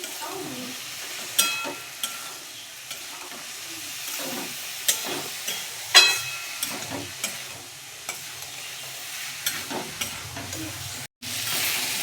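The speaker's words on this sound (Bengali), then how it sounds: "এবারে ভেজে রাখা আলু আর সয়াবিনগুলো দিয়ে দেব। দিয়ে ভালো করে মশলার সঙ্গে কষিয়ে নেবো একটু।" Fried potatoes and soybean chunks being stir-fried with spices in a pan: a low, steady sizzle punctuated by repeated spoon scrapes and knocks, close and moderately loud.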